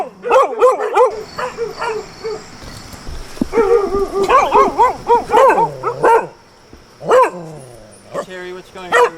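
Several neglected, underweight dogs at a rescue site bark and whimper in repeated loud bursts, with high whines between the barks and brief quiet gaps.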